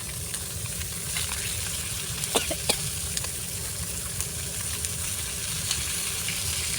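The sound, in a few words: big fish head frying in a pan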